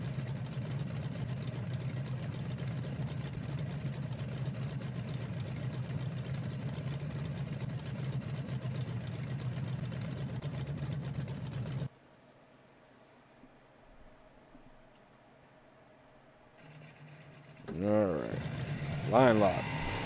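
Engine of a BeamNG drag car with the 489 Venom engine idling with a steady low rumble, cutting out to near silence, then a loud burst of revving near the end.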